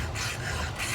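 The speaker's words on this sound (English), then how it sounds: "Just show you some filing, talk some saws here in a minute." Steady rasping strokes of a hand file sharpening the chain of a Stihl 661 chainsaw, a continuous close scraping rub with slight rhythmic swells and no voices.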